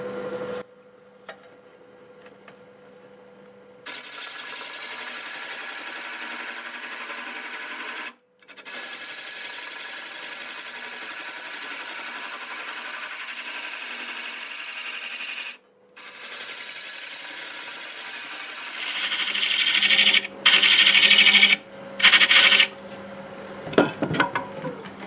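Wood spins on a lathe at about 700 RPM, giving a steady scraping, rubbing drone broken by brief pauses and growing harsher and louder with bursts of cutting near the end.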